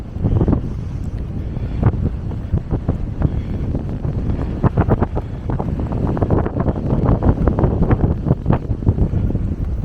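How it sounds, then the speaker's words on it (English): Steady, loud wind buffeting the microphone at Blue Lagoon near Nassau, with low rumbling gusts and sharp crackling bursts running throughout, no voices. "You can probably hear that on the microphone. How windy it is."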